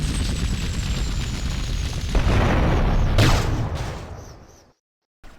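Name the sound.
rocket explosions in Grand Theft Auto video game mission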